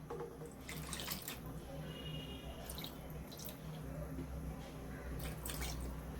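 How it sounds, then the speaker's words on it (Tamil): Water splashes and trickles as it is rinsed and poured into a pot of thoothuvalai kuzhambu cooking in a home kitchen, faint sporadic pours over a steady low hum. "தண்ணிலாம் விட்டு நல்லா அலசி ஊற்றிக்கலாம்."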